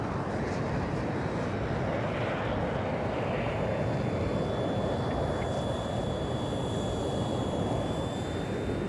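A fixed-wing airplane flown in a video game, its engine a steady, continuous broadband drone with a faint high whine, holding at an even level throughout with no talk.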